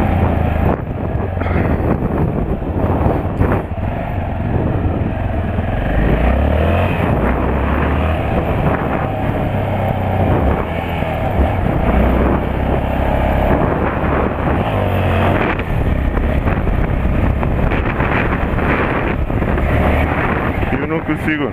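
A Yamaha XT660 motorcycle engine hums and revs unevenly nearby in low gear, with gusty wind noise over the microphone, staying loud throughout.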